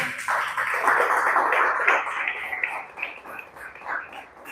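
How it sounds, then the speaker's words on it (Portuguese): A church congregation applauds during a service, with a full wash of clapping from many hands that stays loud and steady, then thins out toward the end. "Aplauda o Senhor com alegria"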